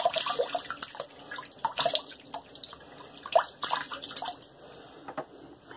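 Water running from a tap while a man wets his face before a shave, with irregular splashes and drips near the sink throughout and no talking.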